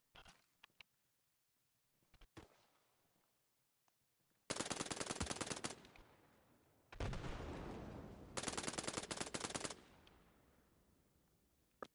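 A machine gun on a firing range fires at the rapid rate, a few scattered single shots and then three long, loud, close bursts of full-auto fire, each lasting over a second with echoing tails between them.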